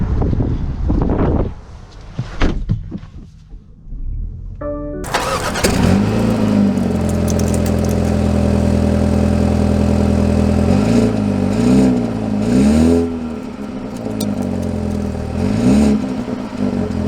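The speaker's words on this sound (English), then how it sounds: "So, setting off in the 2 Series, aka the fun, zippy BMW." A 2023 BMW 228i Gran Coupe starts up and pulls away, its engine settling into a loud steady drone with wind and road noise, rising and falling a few times as it accelerates and shifts.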